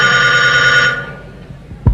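Telephone ringing, a loud, steady electronic bell trill filling the room for about a second before cutting off, followed by a quiet pause and a brief thump, with no one talking.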